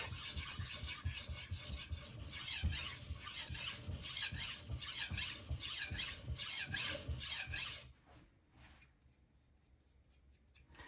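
Rhythmic rasping strokes of a 210mm Karaku AS gyuto being drawn across a whetstone to knock off the burr, steady close scraping for about eight seconds before dropping to a few faint, sparse strokes.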